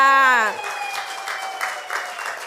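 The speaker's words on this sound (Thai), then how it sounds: "ปรบมือให้โทมี่ด้วยค่ะ" A voice at a Thai skincare product presentation ends with a brief sustained tone, then audience applause follows. It is a steady patter of clapping from a small crowd, moderately loud, continuing to the end.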